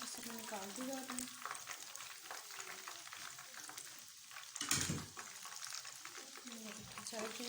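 Chicken leg pieces deep-frying in oil: a constant crackling sizzle with occasional bursts and a clatter as pieces are moved, close but quiet, with someone speaking over it at times.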